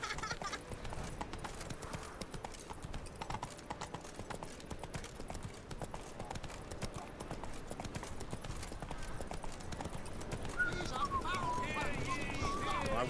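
Roach the horse gallops in The Witcher 3, a quick steady clip-clop of hooves that carries all the way through, set low under game speech and background music.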